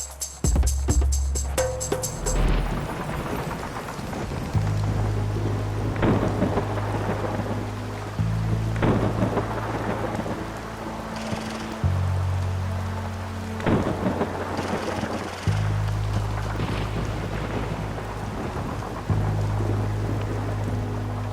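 Heavy rain pours at night with deep, repeated thunder rumbles in a Pakistani drama scene, the downpour steady and loud beneath a sustained low musical score.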